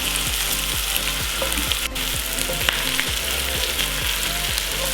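Onions sweating in a pan for a Flemish carbonnade beef stew sizzle steadily and loudly throughout, with occasional stirring clicks.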